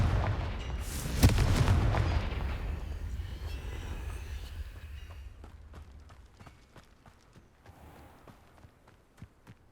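Confringo fire-spell blasts in the video game Hogwarts Legacy: a loud booming explosion early on, then a long rumbling decay with scattered sharp crackles and pops fading out.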